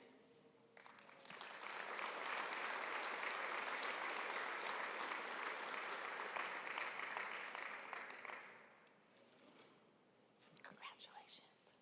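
An audience at an ESPN-presented All-Star Night of Honors applauds Lifetime Achievement Award winners, a steady wash of clapping that builds, holds for several seconds, then fades, with scattered claps and murmuring afterward.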